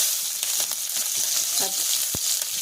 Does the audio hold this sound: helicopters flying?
no